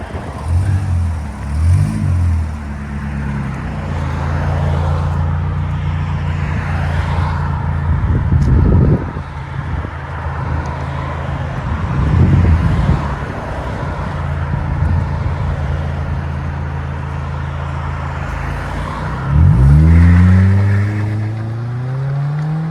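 A straight-piped 2011 Buick Regal CXL engine and exhaust idle with a deep, raspy drone, punctuated by several loud revs that swell and fall back, close to the listener with no speech.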